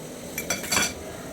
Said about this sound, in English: I'm using the spoon to scatter the stockfish